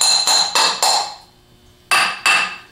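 A hammer taps a bushing onto an armature held in a vise, giving four quick sharp metallic strikes in a row, a pause, then two more, loud and close with ringing decay.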